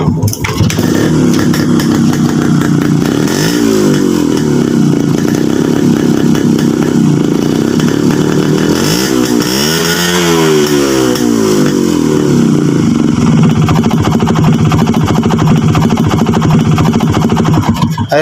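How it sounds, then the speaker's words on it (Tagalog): A Kawasaki HD3 motorcycle engine is started and revved, rising and falling in pitch, with a rough rattling clatter of engine knocking mixed into its steady roar. "Issue din po ba ng motor nyo na pag pinaandar natin may ganitong ingay?"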